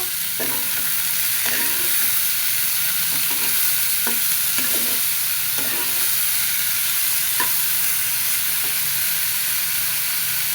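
Sliced bitter gourd and potato fry in a pan in a constant hiss and sizzle, and a spatula stirs and scrapes against the pan in repeated soft strokes over the top.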